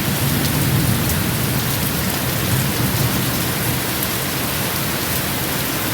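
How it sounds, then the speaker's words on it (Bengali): Heavy rain pours steadily and loudly on surfaces during a thunderstorm, forming a dense, unbroken roar with low rumbling beneath it throughout. "প্রচণ্ড বৃষ্টি হচ্ছে"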